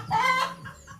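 A short burst of chicken clucking up close, a couple of quick squawking notes followed by softer trailing clucks.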